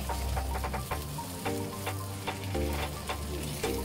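A Korean egg roll with salami, with chilies and olives, fries in a pan with a constant close sizzle and occasional scraping and clinking of a utensil, no voices.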